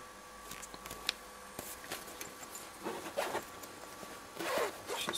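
A zipper on a girls' Demon Flex Force High Pro protective riding jacket in black and fuchsia is worked open and shut, giving several short raspy zips and faint handling rustles, close and fairly quiet with no talking.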